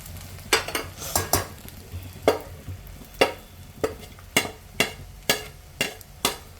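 Crushed peanuts and coriander for sabudana vada are sautéed in a pan, with about a dozen sharp spatula scrapes and taps against the metal in a steady rhythm over a quiet background.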